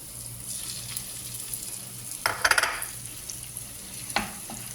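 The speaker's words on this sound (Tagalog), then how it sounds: "So, dito na side, lutuin natin yung itlog" Eggs frying in a pan with a soft continuous sizzle, broken by a few clinks and scrapes of a utensil against the pan midway and near the end.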